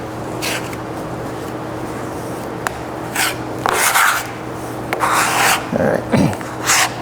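A bench scraper scrapes and lifts buttery pâte sablée pie dough off a work bench in several short rasping strokes, near and moderately loud, with quiet gaps between them and no talking.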